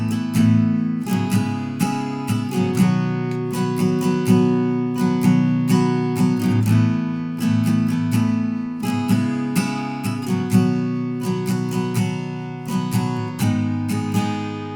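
Guitar strumming the chorus chords of a song in a steady down-up pattern, loud and continuous with rhythmic strokes for the whole stretch.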